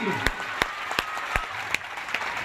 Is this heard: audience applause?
yes